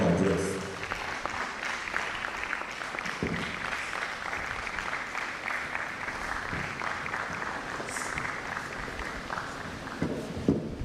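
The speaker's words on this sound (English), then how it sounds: "A round of applause for her" An audience at an international environmental sciences conference claps in sustained applause for about ten seconds, steady and fairly loud, fading slightly near the end.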